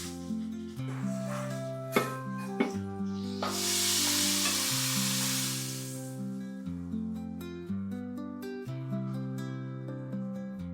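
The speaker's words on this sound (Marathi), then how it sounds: "त्या तडक्यासाठी मी इथे एक पॅन घेतलाय, त्यामध्ये थोडंसं तूप, लाल तिखट, छोले मसाला, लांब हिरव्या चिरलेल्या मिरच्या आणि लांब चिरलेला अद्रक" Ghee tempering with red chili powder, chole masala, long-cut green chilies and ginger hits the pan in a hissing sizzle burst lasting a couple of seconds, set against prominent melodic background music with small clinks.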